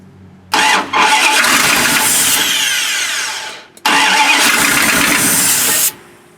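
Starter cranking on an abandoned 1976 Winnebago Brave that has not run in years: two loud, long whirring attempts, the first sagging as it fades and the second cutting off abruptly, with no voices.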